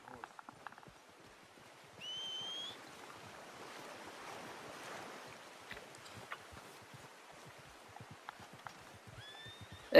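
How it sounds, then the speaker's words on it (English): A horse arrives in Red Dead Redemption 2 with faint, scattered hoof clip-clops over an outdoor ambience of wind and surf-like noise, broken by a couple of brief whistle-like tones. "There goes my horse."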